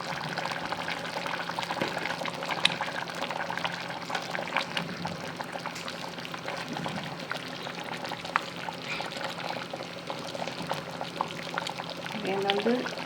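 Bitter orange juice being poured into a pot of simmering chicken soup, a continuous soft liquid pour and bubbling that runs throughout at a steady level, with a voice talking over it.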